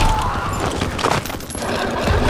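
Gunfire in Call of Duty WWII bursts loud and dense over a short stretch, a rapid fusillade of shots and crashes with no pause.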